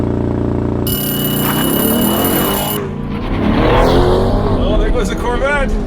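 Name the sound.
Chevy Corvette Stingray and Tesla Model Y drag racing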